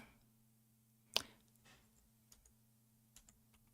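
A new computer keyboard gets a few scattered keystrokes, one sharper clack followed by soft faint taps, against a low electrical hum with no talking.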